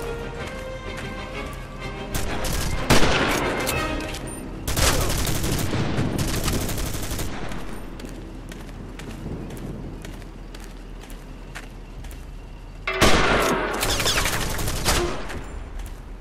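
Machine gun fire from the World War II shooter game Commandos: Strike Force comes in three loud, rattling bursts, with two close together early on and a third after a quieter stretch of distant gunfire.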